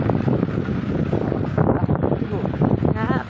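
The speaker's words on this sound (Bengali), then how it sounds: "হ্যাঁ, প্রচণ্ড ঠান্ডা হাওয়াও দিচ্ছে।" Strong cold wind buffets loudly and steadily throughout a boat trip, with engine and water noise beneath and a voice briefly audible near the end.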